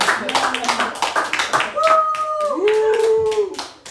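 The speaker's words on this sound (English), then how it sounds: "Everybody give him a round of applause." A group claps for someone being congratulated at a gathering, sharp scattered hand claps running under sung or drawn-out vocal tones and talk.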